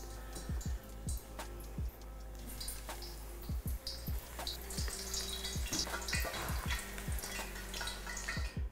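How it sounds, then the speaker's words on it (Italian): Eggplant slices fry in hot oil, with quiet, irregular crackles and sputters over a low steady sizzle. "Comincio a friggerle."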